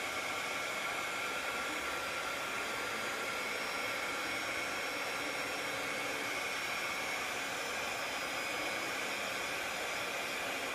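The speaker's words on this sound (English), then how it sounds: "It doesn't take more than a few minutes with this heat gun to start to melt your embossing powder." A heat gun blows steadily while melting embossing powder, a continuous, even hiss and whir with no pauses, close to the listener, and no one speaks.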